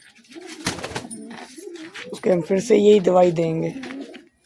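A pigeon with a cold, held in the hand for treatment, gives a loud, throaty rolling coo up close in the second half, after someone speaks over softer earlier murmurs.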